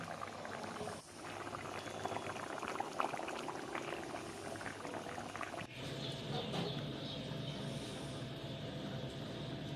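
A pot of fish curry with mani-muni greens bubbling on the stove, a steady low boil that carries on evenly, with a brief clunk near the start and a shift in tone partway through, no voices.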